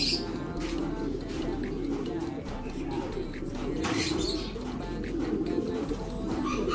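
Grizzle pigeons coo steadily at close range in a loft, a soft murmuring chorus with occasional chirps running continuously throughout.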